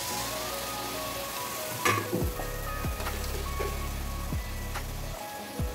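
Fried onions sizzle in a pan as powdered spices go in for dhokar dalna, a steady hiss broken by a few sharp scraping stirs, with no talk.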